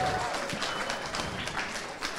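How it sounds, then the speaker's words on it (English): An audience at a live podcast show at the SCaLE 15x conference claps in a dense, steady wash of applause, fairly close and filling the whole moment. "Yeah, give that guy a round of applause."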